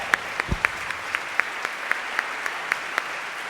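An audience at an evening encore event applauds the MC, heard as a sparse, fairly distant patter of individual claps at a steady pace.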